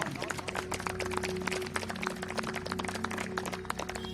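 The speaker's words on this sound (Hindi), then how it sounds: "एक अच्छी ताली मारिए प्रभु के" A congregation claps steadily through a Sunday church service, a dense run of overlapping handclaps over a faint sustained musical tone in the background.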